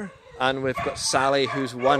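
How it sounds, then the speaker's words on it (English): Several trained farm dogs bark and yip excitedly during a spring lambing day at a rural moor, short bursts rising under a woman's close speech. "You can maybe hear them barking with excitement coming out"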